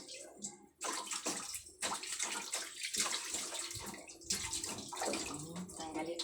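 Water runs steadily from a tap and splashes as tilapia fish are washed and cleaned inside and out, with a person speaking intermittently over the continuous flow.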